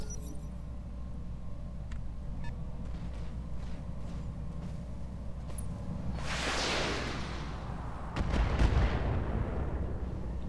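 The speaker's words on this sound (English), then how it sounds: "It didn't sound like an LRM. It sounded like an SRM." Short-range missiles fire from a BattleTech mech in Roguetech, a broad rushing whoosh swelling midway and followed by a heavier low rumbling burst, all over a steady background drone.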